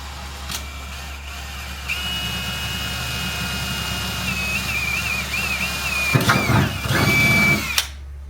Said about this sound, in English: Drilled a hole in his bed.